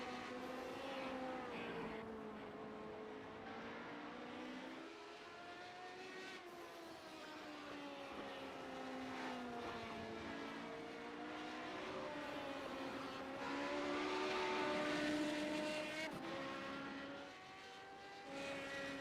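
Radical race cars circle the Lime Rock circuit, a fairly faint, continuous engine drone from a distance, rising and falling in pitch as the cars pass through the corners.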